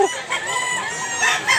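A golden boy rooster crows loudly and close by, with a long drawn call plus a second rising crow near the end, and no talk over it.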